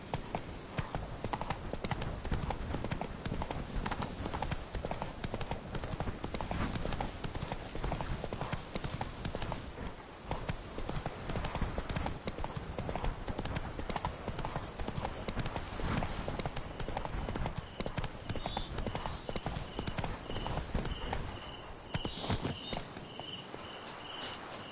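Roach, the horse in The Witcher 3 video game, trots with rapid, steady hoof clip-clops that run loud and unbroken throughout.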